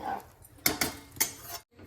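Washed rice is stirred into boiling water in a pressure cooker pot, a metal spoon knocking and scraping against the rim in three or four sharp clanks, close and alone.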